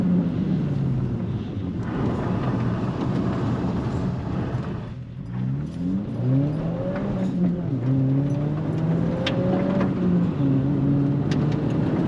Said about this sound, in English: I think these handbrake turns might be some of the smoothest I've ever seen.